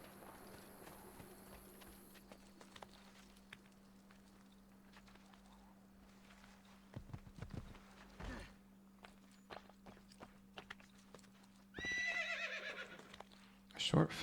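In the Assassin's Creed 2 video game, hooves clop in a brief run of footfalls, then a horse gives a loud neigh near the end over a low steady hum and faint game sounds. A voice speaks at moments.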